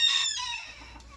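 Ornamental rooster being provoked by a person, a single brief strained crowing squawk that fades within about a second.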